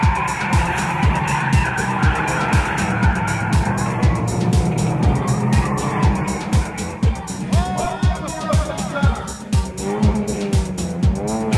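Toyota Vios race cars compete in a bonus round on a purpose-built 1.8-kilometer street circuit at McKinley Hill, engines droning loud and close throughout with repeated tire squeals and skids, while a commentator talks over the action.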